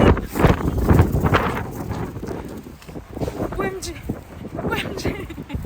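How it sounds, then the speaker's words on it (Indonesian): Strong cold gusts buffeting the microphone outdoors in France, loud rumbling wind noise rising and falling under someone talking. "Oh my god, ini angin, baru angin tiup datang nih, bawa dingin, hawa dingin ya."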